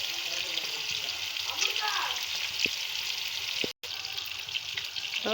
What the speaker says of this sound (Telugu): ఇది ఫ్రై అవ్వనివ్వాలి